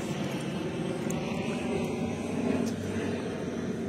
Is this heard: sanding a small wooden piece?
no